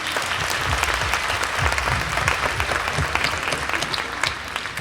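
An audience at a Toulouse Game Show 2022 actor panel gives steady applause, a dense, even patter of many hands clapping throughout, with no voices over it.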